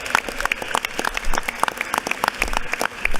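Brisk, dense applause fills a state legislative chamber as members clap for guests celebrating their tenth anniversary, steady and close for a few seconds.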